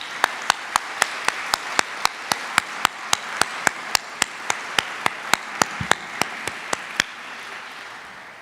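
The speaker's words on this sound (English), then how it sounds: "I'd like to have one more round of applause" Steady, evenly spaced claps from what sounds like a single pair of hands at a graduation ceremony, about four per second, crisp and fairly close, fading out after several seconds with no talk.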